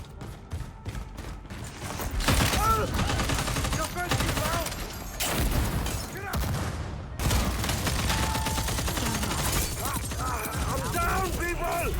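Sustained light machine gun fire in the online shooter Hyenas, loud and continuous with dense overlapping bursts across most of the stretch, mixed with game sound effects.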